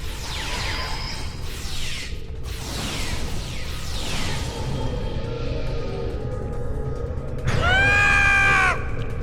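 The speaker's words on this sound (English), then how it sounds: "I love that scream." A drawn-out scream in the game Star Trek Online rises and falls in a wavering, siren-like pattern near the end, loud above a continuous mechanical hum and earlier sweeping whooshes.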